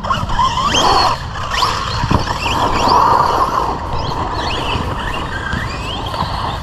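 An Arrma Kraton 4S RC basher car driving over rough ground, its electric motor whining and rising and falling in pitch, with continuous rumbling and gritty scuffing of the tires.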